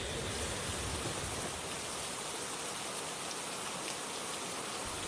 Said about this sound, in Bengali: স্টেশনে নামতেই আকাশ ভেঙে শুরু হলো বৃষ্টি